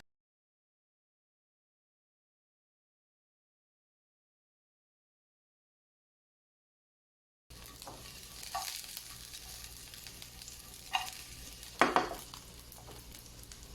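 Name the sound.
garlic frying in a pan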